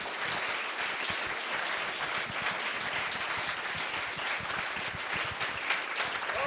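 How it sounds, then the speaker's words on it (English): Steady applause from an audience, a dense wash of many hands clapping at moderate distance, continuing without a break. "Let's give Don a round of applause."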